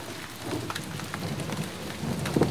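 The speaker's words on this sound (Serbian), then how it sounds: "Počela je padat kiša" Steady rain falling outdoors, a dense even hiss of drops on surfaces with scattered heavier patters, continuous throughout with no voices.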